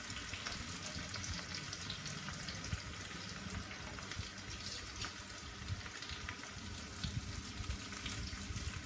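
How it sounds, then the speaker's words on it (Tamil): Sliced onions and curry leaves cook in a pan, giving a soft, continuous sizzle and hiss that stays faint and even throughout. "வெங்காயத்தை ஆட் பண்ணி கருவேப்பிலையும் போட்டு நல்லா வேகட்டும்."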